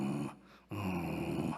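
A voice imitates a low animal growl, a rough, throaty rumble held for about a second and a half with a brief break near the start, loud and alone with no other talk.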